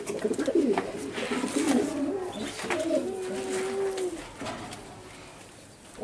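A racing pigeon coos inside a cramped cage, a close, moderately loud run of low, throaty warbling coos lasting several seconds, with faint background noise and a speaking voice nearby.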